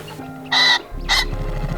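A wild turkey, a rooster, calls from a cut bank on public land during a western turkey hunt: two short harsh bursts about half a second apart, fairly close, with faint background noise.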